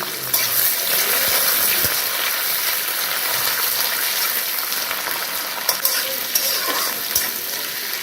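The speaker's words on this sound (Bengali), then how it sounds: "পেঁয়াজটা লাল লাল করে ভালোভাবে ভেজে তারপর আমি এর মধ্যে মাংসটাকে ছেড়ে দেবো" Chopped onions fry in oil, a loud, continuous sizzle with faint clinks and stirring knocks scattered throughout.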